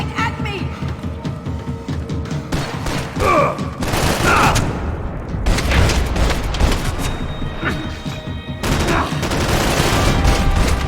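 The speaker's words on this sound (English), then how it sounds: "Max, you're shooting right at me!" Gunfire in the video game Max Payne 3: loud, dense bursts of automatic shots and booming impacts in rapid clusters for the whole stretch, with brief gaps between volleys.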